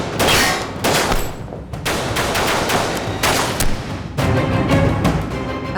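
Gunfire rings out in a movie gunfight scene, loud, rapid bursts of shots with short gaps between volleys, sharp and close with no talking.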